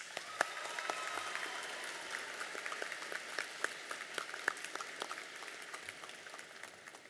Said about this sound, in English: we need to give a thunderous round of applause to the sacrifices our families have made